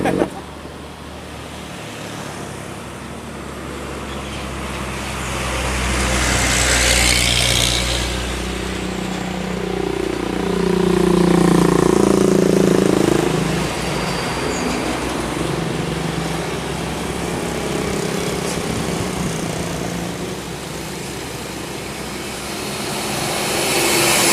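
A motorcycle engine drones along a road while nearby vehicles swell and fade as they pass, with steady road noise underneath.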